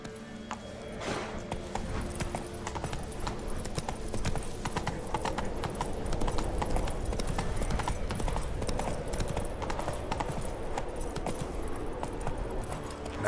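Horse hooves galloping in The Witcher 3 game, a steady rapid clip-clop that stays loud and close throughout, with a brief neigh near the start and faint game ambience underneath.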